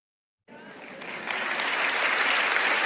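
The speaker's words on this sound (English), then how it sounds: "everybody clap" Audience applause breaks out suddenly after a moment of silence and swells steadily louder, a dense wash of many hands clapping at a faith-themed event.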